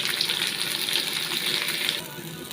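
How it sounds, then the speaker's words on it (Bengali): Boiled potato pieces sizzle as they fry in a pan for a fish curry, a steady bright crackling hiss with small popping spatters, close by and fading slightly at the end. "একটু করে আলুগুলো ভেজে নিলাম।"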